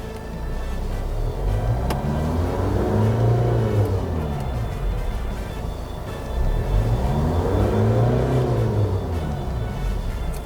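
A Hyundai Santa Fe The Prime 2.0 E-VGT diesel SUV revs up and settles back twice, each rise and fall smooth and steady over a continuous loud engine drone, with no talking.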